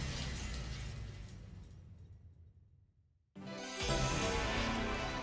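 A loud glass-shattering effect from the video game The Hundred Line -Last Defense Academy-, a bright crash that fades away, then after a brief silence a second sharp burst of breaking glass.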